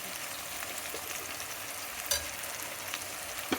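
Chili powder being stirred into dal khichdi frying in a pan, a steady soft sizzle running throughout with a few brief scraping knocks of the spoon near the end.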